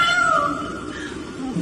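A person mimics a cat's meow with their voice, giving one drawn-out, wavering call that is close and clear, with no other talk around it.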